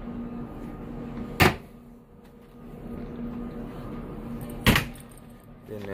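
Closet and drawers in a Norwegian Epic cruise ship balcony cabin being opened and shut, two sharp wooden knocks a few seconds apart over a steady low room hum, fairly close.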